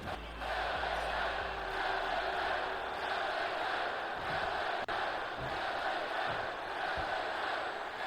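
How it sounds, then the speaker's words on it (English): Arena crowd noise from a WWE 2K24 wrestling match on SmackDown fills the background as a steady, dense roar of cheering spectators, continuous and evenly loud throughout. "You hear the crowd behind LA Knight."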